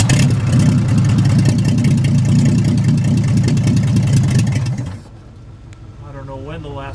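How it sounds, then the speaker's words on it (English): A 1941 Chevrolet car engine, long unrun, runs loudly and revs for several seconds, then cuts off abruptly, followed by a voice speaking in the quiet. "I don't know when the last time this engine was run"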